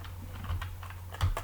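A computer keyboard clicks as code is typed, in a short run of light, close keystrokes with an uneven rhythm over a faint steady hum.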